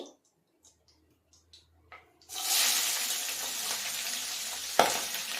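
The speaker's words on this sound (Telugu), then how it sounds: "ఆయిల్ అయితే చాలా బాగా హీట్ ఎక్కిందండి ఈ టైంలో నేను ఆనియన్స్ మిర్చి వేసేసుకుంటున్నాను" Onions and green chillies drop into very hot oil and burst into a loud, sustained sizzle after a few quiet clicks and shuffles, with a sharp spatter near the end; no talking.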